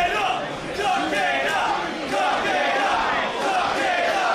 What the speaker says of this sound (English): Crowd rallying behind Takeda, whose blood is now staining his platinum locks.